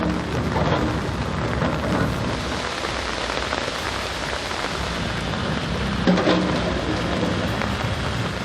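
Heavy rain pours down in Udhampur, a dense, steady wash of drops close by, with a low rumble of thunder mixed in and a brief swell near the end.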